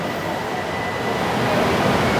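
BTS Skytrain train at Siam station in Bangkok, a steady broadband rumble and hiss that swells slightly louder toward the end, with no voices.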